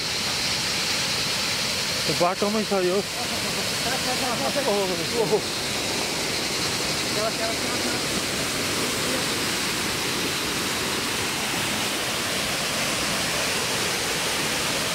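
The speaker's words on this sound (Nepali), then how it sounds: "तेस्रो झरना हो यो।" A Nepali waterfall roars as a constant, broadband rush close by, filling the whole scene while a few voices talk briefly over it early on.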